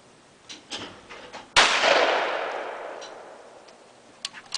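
A single loud shotgun blast at clay targets in a Cacapon State Park, WV field cracks sharply and rolls away in a long fading echo, with faint clicks and handling noises before and after.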